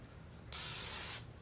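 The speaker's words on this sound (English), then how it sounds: "And I'm going to spray it all." Hairspray sprayed onto hair while styling beach waves gives one steady, close aerosol hiss of under a second, starting abruptly and cutting off cleanly against a quiet room.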